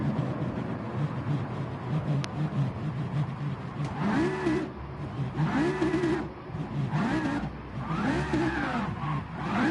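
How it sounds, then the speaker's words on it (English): A race car doing a burnout at an RWB racing event revs its engine in repeated rising and falling surges, a loud whining roar with tire-squeal undertones, close and sustained with no talk. "Do a burnout."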